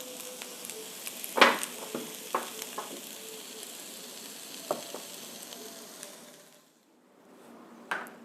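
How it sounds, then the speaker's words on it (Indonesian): Water at a rolling boil in a pot on a stove over a high flame, a steady bubbling hiss with scattered pops and knocks, fairly quiet and unbroken, thinning out near the end. "Oke, ini airnya sudah mendidih."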